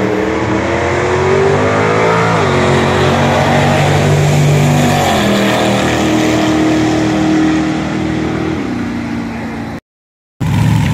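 An old truck runs at a vintage drag race with a loud, close engine roar and revs rising and falling, ending in a sudden short cutoff.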